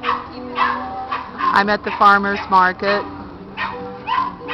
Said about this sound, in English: I don't know if you can hear me over the dog barking.